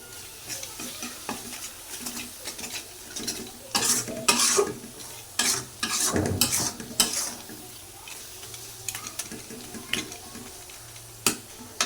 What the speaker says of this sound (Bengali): এখন ভালো করে ভাজা নিই